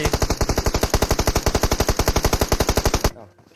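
M4 assault rifle in PUBG Mobile firing one long, steady full-auto burst of about three seconds, loud and close, with rapid evenly spaced shots before the fire cuts off abruptly.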